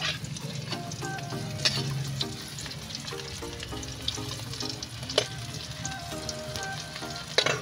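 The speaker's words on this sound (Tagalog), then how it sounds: "ipiprito ko muna tapos kakain na tayo" Tuyo, dried fish, fries in a pan with a faint steady sizzle and popping crackles, over background hum and soft clatter, without talk.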